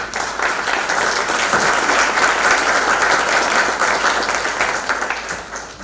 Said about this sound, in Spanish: que sean las primeras palmas de esta noche, por favor.